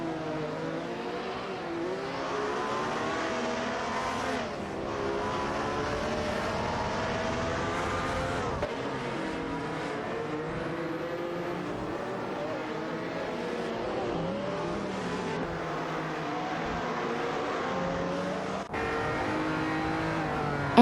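Race car engines in a racing video game, as several cars drone and whine continuously, rising and falling in pitch as they accelerate and pass. A commentator talks over the engine noise throughout.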